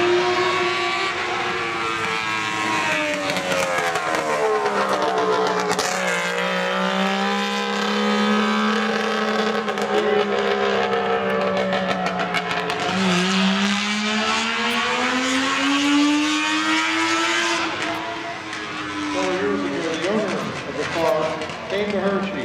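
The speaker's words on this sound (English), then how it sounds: "Charles Christ has the honor of making the last run in his Saab-powered Brand X." Saab-powered Brand X vintage race car on a hill climb run, its engine note rising and falling through gear changes, loud and close, with a narrator talking over it throughout.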